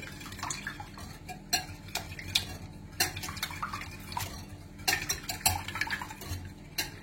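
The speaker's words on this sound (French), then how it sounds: "je vais remuer à nouveau, comme ceci" A utensil stirs a milk mixture in a dish for croque monsieur, with steady scraping and repeated clinks against the sides, close and clear with no talk.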